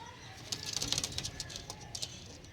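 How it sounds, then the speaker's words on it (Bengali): Old-line breeding pigeons, a male and a female, coo softly with scattered light fluttering and clicking, faint and fairly close in a quiet setting. "সুপার একদম টপ কোয়ালিটির পায়রা, রেজাল্টের পায়রা একদম"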